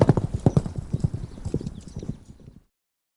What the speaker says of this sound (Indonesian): Pintu pun tertutup dan kereta kuda bergerak menjauh.